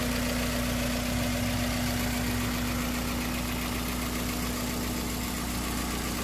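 A Toyota 4AGE blacktop 20-valve engine with 11:1 compression and individual throttle bodies idles in a 1995 Corolla, a close, loud and steady hum with an even mechanical thrum throughout.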